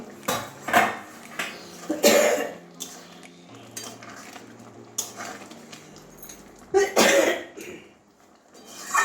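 A metal plate used as a lid is lifted off a pot of chana dal cooking with carrot and pointed gourd. There are several loud metallic clanks and scrapes up close, mixed with a person coughing and clearing their throat.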